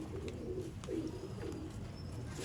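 Ferozpuri pigeons cooing at close range, several soft low rolling coos repeating in a loose rhythm over a steady background hiss.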